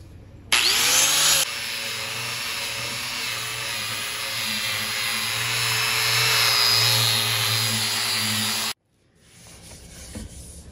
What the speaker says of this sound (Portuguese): E vamos passar uma lixa mais fina aí